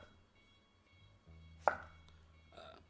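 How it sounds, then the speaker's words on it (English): A knife cuts cucumber into julienne strips on a cutting board, giving one sharp close chop amid quiet handling sounds and a faint low hum. "The cucumber's gonna be a little easier to julienne"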